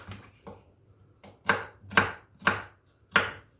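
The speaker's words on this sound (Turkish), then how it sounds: "Şimdi kuru soğanı da doğruyoruz." A knife chops a dry onion on a cutting board, with six crisp, separate strokes in an even rhythm, the later ones louder and close up.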